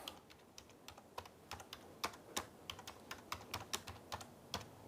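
Computer keyboard typing during a hand-tool woodworking session: a run of sharp, irregular key clicks, close and fairly loud, with no talking.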